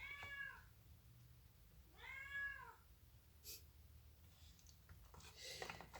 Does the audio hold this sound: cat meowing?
yes